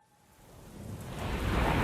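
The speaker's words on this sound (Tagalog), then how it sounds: "Kasunod ng mahinang patak ng ulan" Soft, light rain falls as a storytelling sound effect, a gentle hiss that swells steadily from near silence to a fuller wash of patter over a couple of seconds.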